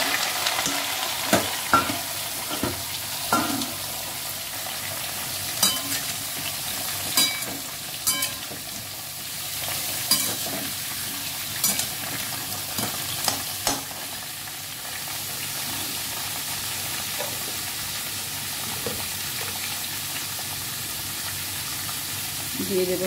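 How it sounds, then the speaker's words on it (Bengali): Ridge gourd with poppy seed and a nigella seed tempering sizzles steadily in a pan, with frequent stirring clicks and scrapes from a spoon, close and continuous, and brief faint talk in places. "একটু কালো জিরে ফোড়ন দিয়ে দিলাম।"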